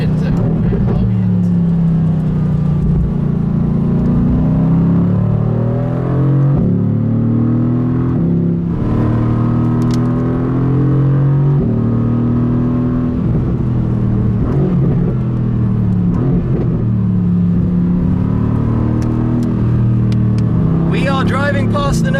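A Mercedes-AMG GT R driving on a snowy road near the Nürburgring. The engine drone stays steady and close, its pitch rising and falling with gear changes, and a voice seems to speak over it.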